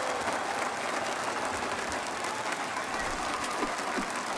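A large crowd cheers loudly and steadily at an esports finals arena in Rio, a continuous roar of applause and shouting that lasts the whole stretch.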